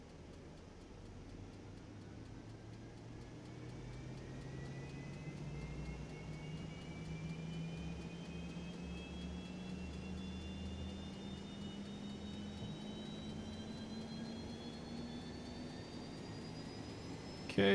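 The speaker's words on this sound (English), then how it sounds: "Okay, engine's coming up" An Epic E1000 turboprop engine spools up during start in a flight simulator, a steadily rising whine and whir that climbs in pitch over many seconds, fairly faint and with no talk.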